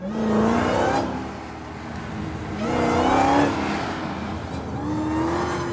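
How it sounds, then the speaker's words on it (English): Car engine revving loudly over and over as the driver keeps stamping the pedals, a steady rising and falling drone close by, with no voices. "That is a genuinely horrible noise that Hammond's car's making"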